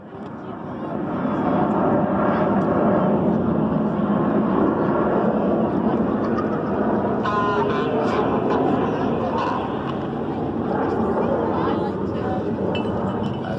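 Red Arrows jets fly a synchro pair opposition manoeuvre at an air display, a broad, loud roar building within the first two seconds and holding steady, with a commentator talking over it throughout.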